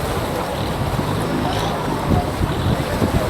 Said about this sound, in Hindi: पूरा पानी और जो वाटर का जो वॉइस होता है ना, वो भी बहुत सूदिंग होता है